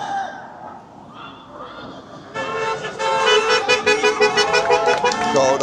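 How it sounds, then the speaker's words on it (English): Vehicle horns honk from passing traffic on a street, first a couple of softer toots, then a loud run of rapid repeated blasts that pulse steadily to the end. "Got all the honkers going by"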